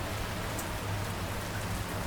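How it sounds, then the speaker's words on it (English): Rain downpour at night, a steady, dense hiss of drops falling on surfaces, heard alone and fairly faint with no pauses. "The rain never stopped. As the night wore on, the downpour only grew in intensity"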